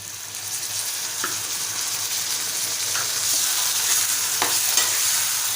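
A ground onion, coconut, garlic and ginger paste fries in a little oil for Malvani-style brinjal, a continuous close sizzle with a few sharp stirring scrapes and no voices.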